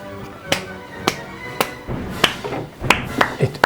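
One person clapping hands, a handful of sharp separate claps spaced roughly half a second apart, close by, with a voice talking between them.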